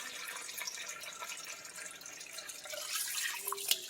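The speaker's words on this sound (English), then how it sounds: "Use my handy dandy pot filler here." Water from a kitchen pot filler faucet pours into a pot, a faint, steady hissing trickle that runs without pause for a few seconds, with no voices.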